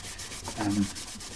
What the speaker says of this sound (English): ready for polishing, sanding and polishing out the frets